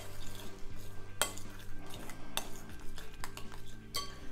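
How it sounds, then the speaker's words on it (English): Chopped fresh mint, basil and curly parsley being mixed into panisse batter in a bowl, with soft clinks and scrapes of a utensil, close up over quiet music. "you just want to bring everything together by mixing it in"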